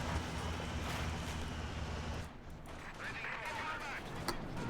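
A heavy machine gun fires during a World War II battle in the strategy game Company of Heroes 2, heard as a dense, loud rattle of gunfire mixed with rumbling battle noise that eases off partway through.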